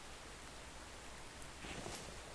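Rain falls in the survival game The Infected, a soft, even hiss of drops that swells slightly near the end, faint and steady with no one speaking.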